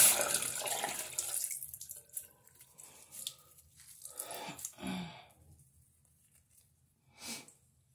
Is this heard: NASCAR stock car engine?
no